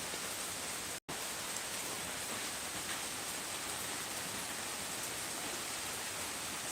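Heavy rain pours down continuously under cloudy skies, a broad uniform hiss with one brief dropout near the start, no voices.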